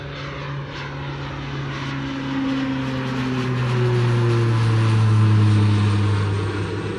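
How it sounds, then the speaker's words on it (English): A Beechcraft King Air turboprop takes off and climbs, its propeller drone and engine whine steady and loud, with pitch slowly shifting and the sound swelling as it passes overhead. "That is a King Air"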